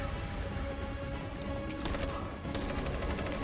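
Rapid gunfire crackles in Detroit: Become Human, with sharp shots rattling over a dense, loud background of action noise.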